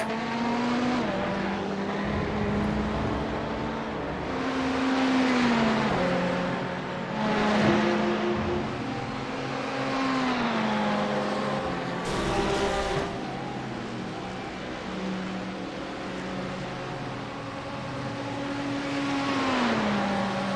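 Ferrari and Porsche race cars in a racing video game drone loudly and continuously, engines rising and falling through gear shifts as they lap the track with no one talking.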